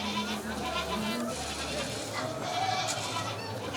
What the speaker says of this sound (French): les chèvres sont présentes, au même titre que d'autres animaux de la ferme